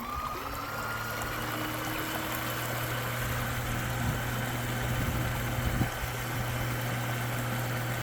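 A Remigo One 3hp electric outboard motor runs steadily on a boat with a constant low hum and whine, with water washing and trickling alongside and no talk.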